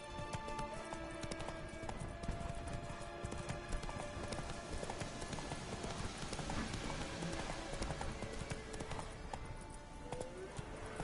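Horse hooves clip-clop steadily at a riding pace in The Witcher 3, a continuous rhythmic trot over game ambience and music, fairly loud and close throughout.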